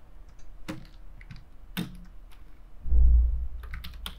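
Computer keyboard typing while writing React code: a few scattered, close key clicks spaced apart, then a brief low thump and a cluster of quicker taps at the end, no talking.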